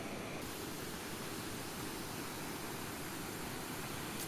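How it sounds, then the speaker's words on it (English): Waterfall flumes in a park pour water steadily, a dense, even rushing roar that fills the scene continuously without pause, close and loud. "Some more crystal clear water, a couple waterfall flumes here."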